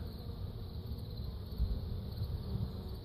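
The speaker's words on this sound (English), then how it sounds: "I got bees around all the cracks trying to get in where the smell is" Bees swarm around a beehive robbing screen, a continuous low droning hum from many insects close to the microphone, steady with slight swells, alongside light wind rumble.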